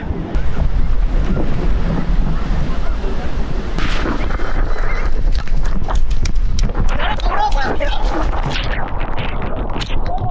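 Rough, churning salty sea waves at Puri beach roar loudly and continuously, thick with wind buffeting the microphone, with people's voices mixed faintly into the surf.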